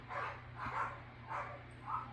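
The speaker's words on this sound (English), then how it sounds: "my dogs are going crazy outside." Dogs barking outside in a residential area, four evenly spaced muffled barks at a distance, faint and alone with no talking.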